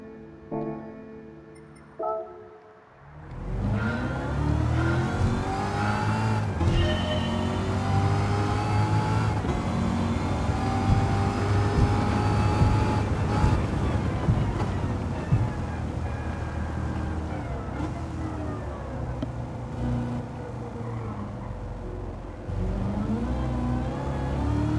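A car in a racing video game revs up and accelerates hard toward top speed. A loud, sustained engine whine climbs in pitch through the gears, with brief dips at the shifts, and no one speaks.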